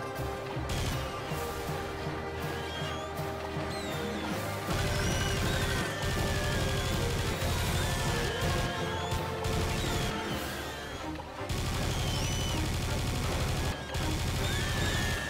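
Harpies in Serious Sam 2 being blown apart by gunfire, loud continuous shooting and crashing explosions that fill the clip, with screeches rising above the steady barrage.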